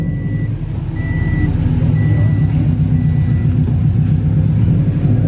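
Stage 2+ Subaru WRX rolling in gear after a new transmission install: a loud, steady low engine rumble close by, with a repeating electronic warning beep sounding several times over it.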